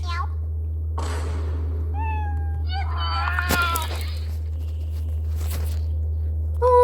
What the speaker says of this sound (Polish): O, kotek!